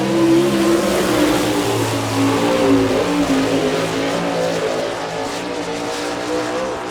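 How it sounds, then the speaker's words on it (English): A sprint race car engine roars loud and steady through a lap on an oval dirt track at an All Star Circuit of Champions event in Chillicothe, Ohio, with a shifting pitch as it passes, then fading slightly. "That motor sounds good."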